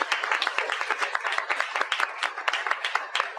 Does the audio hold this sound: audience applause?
yes